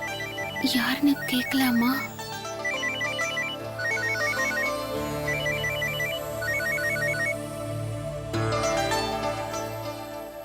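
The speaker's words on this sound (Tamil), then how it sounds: "போன் வேற அடிக்குது." A telephone rings repeatedly in a home, a steady electronic ringtone pattern repeating through the whole stretch, with a voice briefly speaking over it and background music underneath.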